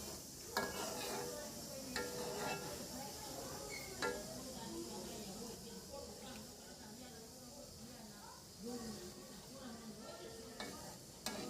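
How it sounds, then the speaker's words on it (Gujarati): Gulab jamun fry in hot oil with a soft, continuous sizzle while a utensil stirs them gently, giving occasional light clinks against the pan as a voice talks over the cooking. "હવે આપણે તેલને છે ને ધીરે ધીરે અને હલાવવાનું છે"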